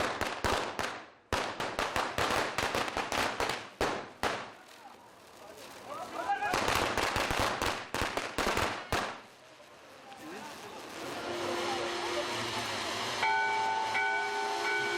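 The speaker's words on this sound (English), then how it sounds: "the Mandir committee hands out firecrackers and bedlam is let loose." Rapid volleys of sharp firecracker bangs crackle in dense bursts at a Hindu temple festival in the Himalayas, then fade into a hissing, humming background.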